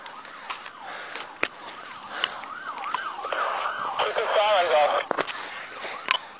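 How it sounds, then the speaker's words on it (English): Police car sirens wail close by during a gun battle in Pasco County, a rising and falling tone that grows louder toward the end, with urgent shouted voices and sharp bangs cutting through. "Guys, you gotta shut your sirens off."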